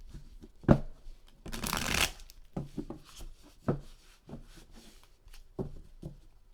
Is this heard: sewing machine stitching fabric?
no